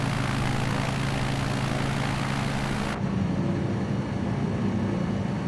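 A small, basic propeller airplane cruising over Stockholm, Sweden, its engine droning steadily and evenly throughout with no talking.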